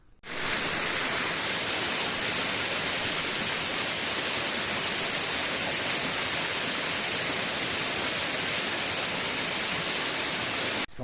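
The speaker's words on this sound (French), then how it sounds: "C'est tout un petit ruisseau comme ça." A small stream on the Grandval waterfalls trail in the Cantal, at about 1300 m, gives off a steady, close, unbroken rush of flowing water that stays even throughout.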